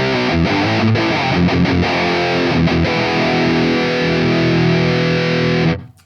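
An electric guitar played through an Audified Multidrive Pedal Pro with the boost on and the distortion turned all the way down gives a loud, crunchy sustained riff that rings, then cuts off sharply at the end.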